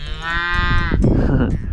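A cow gives a loud, drawn-out moo close by, followed by rough rumbling noise and a fainter low call at the end, likely a calf, in Mexico.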